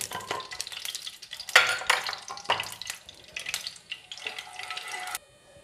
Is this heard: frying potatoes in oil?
yes